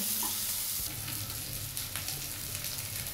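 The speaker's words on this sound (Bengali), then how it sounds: "এবার আমি পেঁয়াজটাকে ব্রাউন কালার করে ভেজে নেব।" Half a cup of chopped onions fries in hot oil until brown for a taro-root and taki fish dal, giving a steady close sizzle with a couple of soft stirring scrapes and no talking.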